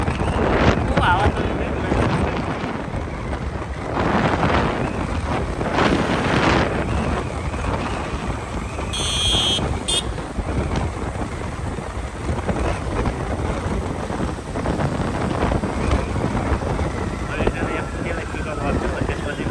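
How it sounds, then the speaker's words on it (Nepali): Outdoor wind gusts buff against the microphone as a continuous roaring rush that swells and eases in waves, with people talking over it at times. "हावा"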